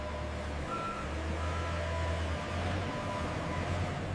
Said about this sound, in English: The truck prepares to deliver comfort to homes everywhere.